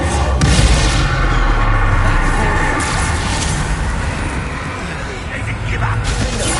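Incendio fire spell cast in Hogwarts Legacy, a loud, continuous roaring blast with heavy low rumble that holds strong and slowly eases, with crackling bursts on top.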